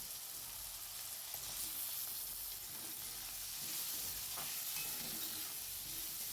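Tomato frying in a pan with potatoes and peas, stirred by hand: a steady broadband sizzle runs throughout, with occasional scraping stir sounds rising above it, close and unaccompanied by talk.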